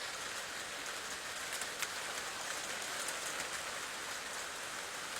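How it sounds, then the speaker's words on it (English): Steady rain falls as a dense, even hiss of drops on surfaces, continuous and moderately faint with no voices. "It's just a little bit of rain."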